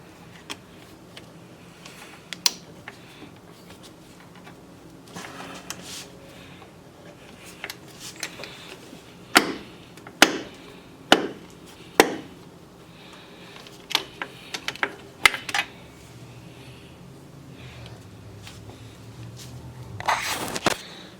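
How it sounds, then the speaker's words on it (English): An Allen wrench loosening 6 mm bolts on the A/C compressor of a Mercedes SLK230, with sharp metallic clicks and ratcheting snaps spaced several seconds apart, heard close over a quiet garage background. "Now I can loosen the 2 top 6 millimeter Allen bolts."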